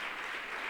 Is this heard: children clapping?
yes